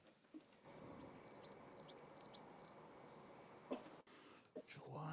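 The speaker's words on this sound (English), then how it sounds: "That bird sounds like a squeaky wheel." A bird chirps a quick run of about six squeaky, wheel-like tweets in a rhythmic series, clear and fairly close, with scattered soft voices and thumps around it.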